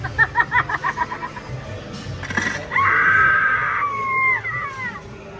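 A Spirit Halloween Widow animatronic gives a loud, sustained electronic shriek lasting a couple of seconds and trailing off, preceded by brief rhythmic mechanical clicking and a short burst of noise.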